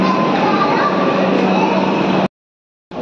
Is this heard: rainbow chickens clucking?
no